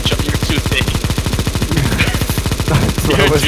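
Negev machine gun in Counter-Strike firing one long, unbroken automatic burst of rapid, evenly spaced shots, loud and close throughout.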